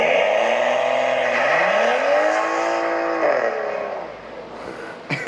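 A BMW 340 with an aftermarket customer exhaust revs loudly close by, its engine note climbing in rising sweeps, holding, then dropping off, with a sharp crackle at the end.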